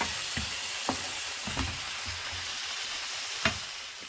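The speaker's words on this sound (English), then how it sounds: "cook the calamari first" Calamari fries in a pan with a constant sizzling hiss, punctuated by several low thumps and sharp pops as pieces are moved or spatter, heard close and without talk.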